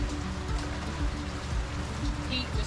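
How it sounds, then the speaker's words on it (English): Steady rain falls outside around a dog named Pete, a continuous dense patter of drops on surfaces at close range, with no voices. "Pete just sitting in the rain, looking sad."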